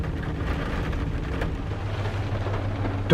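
Rain falls on a dreary day, a steady moderate patter with a low hum beneath it and a brief clatter at the end; nobody speaks.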